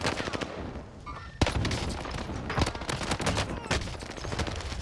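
Rapid bursts of M1928 submachine gun fire in a first-person shooter video game, loud and dense across the whole stretch, with repeated volleys and a sharp shot standing out near the start.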